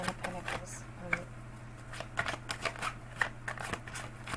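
A deck of thick tarot cards is shuffled up close in a series of short, crisp riffling and slapping bursts, with small pauses between them.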